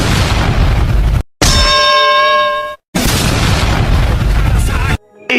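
Loud cartoon trailer sound effects: heavy booms and explosion blasts with a ringing metallic clang, three bursts broken by abrupt silent cuts, with a voice speaking over parts of it.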